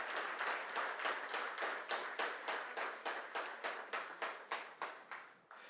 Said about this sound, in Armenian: ես առաջարկում եմ բարձր ծափահարություններով մեր զինվորականներին ողջունել